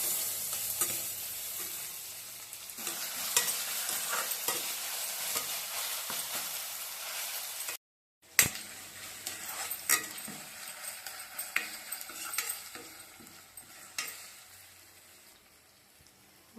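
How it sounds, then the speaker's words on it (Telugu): Ginger garlic paste and crushed onions frying in a pan for a mushroom curry, a steady close sizzle with repeated scraping stirs and utensil clinks, one brief gap midway. "కొంచెం అల్లం వెల్లుల్లి పేస్ట్, దంచిన ఆనియన్స్ యాడ్ చేసుకొని కొంచెం బాగా వేగనివ్వాలి"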